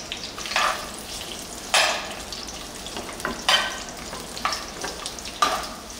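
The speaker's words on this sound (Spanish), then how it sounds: "Y aquí vamos a freír cebolla, es media cebolla grande." Half a large onion fries in pork lard in a clay pot, giving a soft continuous sizzle broken by a few sharper stirring scrapes at intervals, close and clear, without speech.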